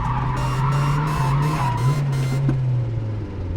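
A turbocharged or supercharged Mazda MX5 slides on a wet skid pan, its tires squealing in a long, loud wavering screech over engine drone, close and sustained before easing off, with no talking.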